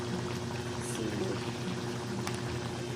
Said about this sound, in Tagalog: Yan po, kumukulo na po.